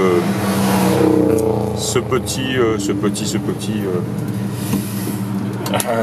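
A 1965 Pontiac LeMans V8 with automatic transmission drones steadily on a road test, a low continuous rumble inside the cabin, with someone talking over it throughout.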